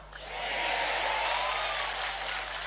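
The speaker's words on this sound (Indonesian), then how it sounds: "Oh, tepuk tangannya bukan main lagi." An Indonesian religious gathering for an Isra Mi'raj sermon breaks into sustained audience applause, a dense, even clatter of many hands that swells in the first half-second and holds steady under a constant low hum.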